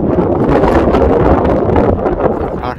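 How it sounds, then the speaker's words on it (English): Strong wind at Three Sisters Car Park roars and buffets the microphone continuously, loud and gusty, with a slight easing near the end. "it is very windy."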